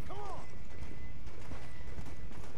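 Horse hooves clip-clopping in the Red Dead Redemption zombie video game, a steady run of soft, evenly spaced hoof beats under a low background hum and a brief whinny-like tone at the start.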